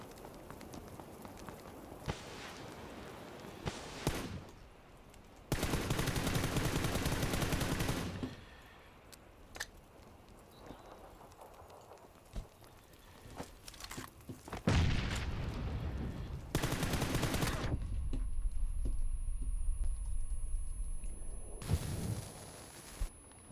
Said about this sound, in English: Oh, he's got a big gun, okay.